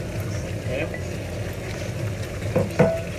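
Beef in black pepper sauce with vegetables stir-frying in a pan, Chinese style, a steady moderate sizzle with a couple of stirring clatters near the end.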